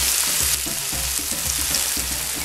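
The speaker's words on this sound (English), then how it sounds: "I've allowed the pepper with the ingredients to fry for about 3 to 4 minutes" Pepper and other ingredients fry in a pan for a Nigerian bagel-and-egg dish, a steady close sizzle with a rhythmic series of low scraping stirs running through it, no voices.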